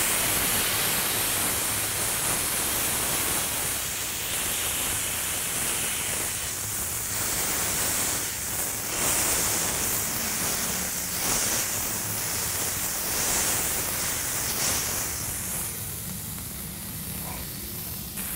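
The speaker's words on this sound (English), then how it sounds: "So the meatball's heated up now, so we're going to go ahead and smash it." Sizzling of a meatball smashed into a burger patty on a hot griddle, a steady loud hiss with spattering that holds throughout and eases slightly near the end.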